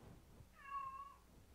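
A domestic cat gives a single short meow indoors, faint and somewhat distant against a quiet background.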